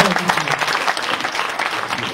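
A handball club gathering welcomes its new coach with applause, a dense wash of clapping that holds steady throughout while a voice speaks over it.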